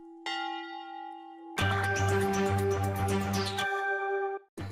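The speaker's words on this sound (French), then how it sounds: "la cloche sonne dans le clocher consolidé" The bell in the consolidated tower of Saint-Vincent-de-Cos church rings out alone, loud and sustained. A single resonant toll is followed by repeated strikes that ring on as layered metallic tones.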